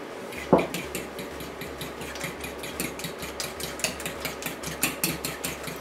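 Eggs with a pinch of salt whisked briskly in a bowl, a steady run of rapid rhythmic clinks and taps of the whisk against the bowl, close and fairly loud, with a sharper knock near the start.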